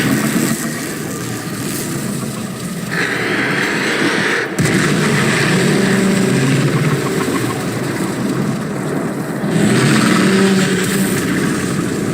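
A loud, sustained blast from the Warframe video game, with a heavy rumbling roar that holds for about twelve seconds and shifts in intensity partway through, close and dominant with no talk.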